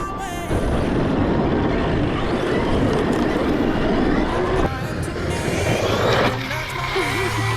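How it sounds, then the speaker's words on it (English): A 1/5-scale 8S Arma Outcast RC car drives on a pump track, its electric motor whining loudly and continuously with surges and dips, tyres and chassis rattling over the ground. "My friend Sky brought his 1/5 scale 8S Arma Outcast."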